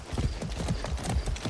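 Horse hooves clip-clopping at a steady trotting rhythm in the video game Far Cry 6, close and fairly loud with no talk over them.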